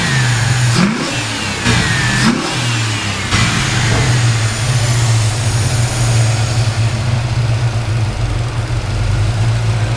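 A Ford Fairmont XC GXL engine idles steadily and loudly up close, with two brief revs rising and falling early on.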